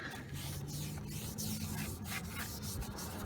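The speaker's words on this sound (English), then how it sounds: "So we're spraying it with brake clean to clean all that grease off that was in the packaging." Aerosol brake cleaner sprayed onto new brake rotors for a Plymouth Breeze to strip packaging grease: a steady, continuous hiss with some rubbing texture, close by and fairly quiet, with no talking.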